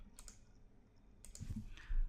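A computer mouse clicks an OK button in accounting software, giving a couple of quick, close, quiet clicks with a further click a second later, alone in a faint room.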